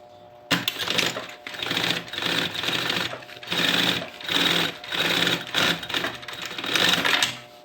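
A sewing machine topstitches a seam on a backpack with a panel, running in several short, loud, close bursts separated by brief pauses.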